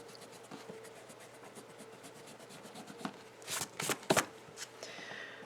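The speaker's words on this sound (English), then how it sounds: "So you can take an eraser, I believe in erasers, and erase anything you don't want." An eraser rubbing across drawing paper in quick, soft, repeated strokes, growing into a few louder, scratchier bursts toward the end, close and with no talking.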